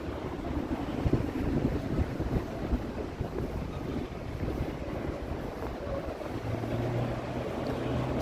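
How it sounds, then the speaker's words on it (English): Breezy wind on a downtown Toronto street near the East Bayfront, buffeting the microphone as a steady, rumbling roar with no pauses. "It's kind of a breezy day."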